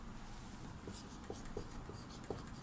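Pen scratching on paper while a name is written in a school exercise, faint soft strokes with a few small taps, recorded close in a quiet room.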